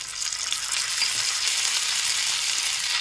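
Chopped onion fries in a pan for fish jhal, giving a loud, continuous close-up sizzle with faint rattles as it is stirred, and no voices.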